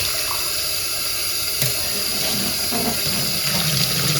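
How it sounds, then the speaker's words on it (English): Steady, close water gushing from a tap, splashing and swishing continuously as dyed yarn is rinsed under the stream. "I'm just going to keep doing this until the water runs clear."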